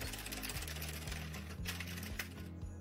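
Addi circular knitting machine being hand-cranked while knitting a flat panel, a close, steady mechanical clatter of needles with faint rhythmic clicks and no talk.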